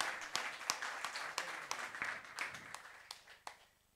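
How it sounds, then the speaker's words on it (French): Audience applause at an association gathering as a woman is invited up: a modest crowd claps with distinct sharp hand strikes standing out, the clapping fading steadily into near quiet at the end. "Madame Rukia Mahadali, sous vos applaudissements, s'il vous plaît."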